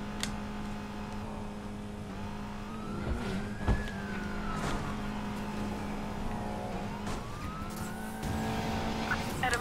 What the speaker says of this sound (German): An alle Einheiten, Adam 113 verfolgt einen Volvo 242.